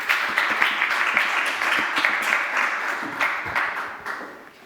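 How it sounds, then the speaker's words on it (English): Steady audience applause fills a conference panel hall, dense and sustained clapping from many hands at moderate distance, with no voices over it. "So I think we can applaud."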